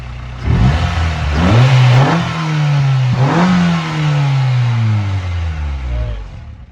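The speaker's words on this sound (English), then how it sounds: "this is what the cold air intake sounds like afterwards" Up close, a 2000 Honda Civic engine fitted with a cold air intake revs twice in loud surges, the pitch rising and dropping each time, then eases back down to a steady idle.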